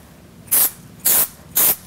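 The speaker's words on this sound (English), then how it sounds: "just a couple of puffs of Basu Shine Spray" Three short, sharp puffs of shine spray on hair hiss out in an even rhythm, each a brief bright puff of mist with quiet pauses between.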